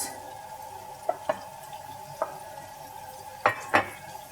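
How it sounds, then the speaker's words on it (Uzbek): Onion frying in oil in a pan, a steady gentle sizzle with a few sharp clicks and taps of a utensil against the pan scattered across it. No one speaks. "suvi ketdi, yog'ida qovurilyapti"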